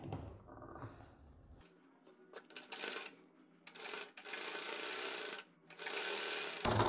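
A sewing machine runs in several short bursts while stitching piping along a kurti neckline, with pauses between runs and quiet handling sounds, moderately loud and close.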